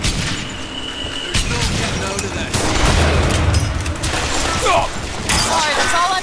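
BioShock Infinite gunfire erupts in dense bursts of shots and mechanical clatter, loud and close throughout, with booming thuds mixed in and a voice talking over the chaos.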